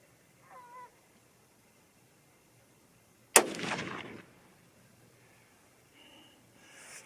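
A single loud .243 Win rifle shot fired with Accubond bullets over Ramshot Grand powder cracks sharply, then a short rumbling echo trails off, followed by quiet outdoor ambience with faint distant noises.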